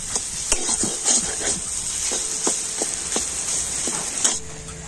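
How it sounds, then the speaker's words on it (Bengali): Potatoes with finely chopped green chilli are stirred in a pan, with repeated scraping and tapping strokes of a spoon over a soft sizzle. "আর এবার আমি সবকিছু কিন্তু খুব ভালো করে এবার একটু নাড়াচাড়া করে নেব।"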